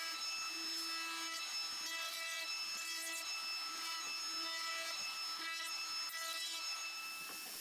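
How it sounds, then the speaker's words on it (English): A high, whining palm router cuts steadily into wood, rounding over the edges, its pitch dipping in repeated passes over several seconds. "I route the edges with a small roundover"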